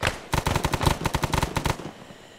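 Rapid automatic gunfire in the video game Arma 3, set in a Vietnam War mission: a loud, close burst of roughly a dozen sharp shots in quick succession that stops abruptly, leaving a faint tail.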